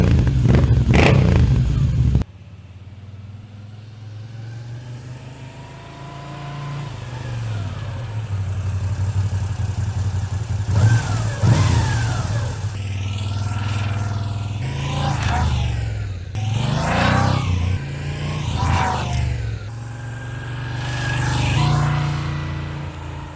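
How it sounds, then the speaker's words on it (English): A Moto Guzzi V7 Carbon Dark fitted with an Agostini carbon fiber exhaust, heard up close: a sharp blip, then a steady idle rising into several loud revs with throaty swells and drops. "So that Agostini carbon fiber exhaust just totally wakes up the bike in the neighborhood"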